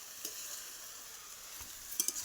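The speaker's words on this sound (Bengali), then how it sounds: "পাঁচ মিশালি রান্না করছে।" Mixed vegetables sizzle steadily in a pan as they are stirred, with a few sharp scraping clicks of the utensil near the end and no voices.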